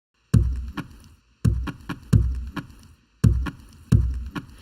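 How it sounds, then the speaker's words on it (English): Hollow tree being whacked, as a sampled sound: sharp woody knocks in irregular clusters of two or three, each with a short resonant hollow ring, close and dry with gaps of silence between. "I found this sample on Splice that somebody made of a hollow tree, like whacking a hollow tree"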